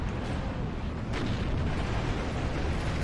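T-34 tanks firing in Steel Division 2 amid a large battle, a dense, continuous rumble of distant cannon fire and explosions, with one sharper blast about a third of the way in.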